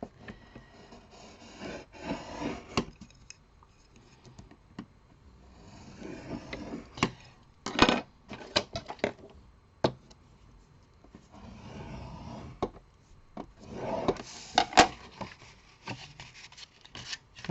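A tool scores a fold line into very thick card paper in several repeated passes, making short scraping, rubbing strokes separated by quiet gaps.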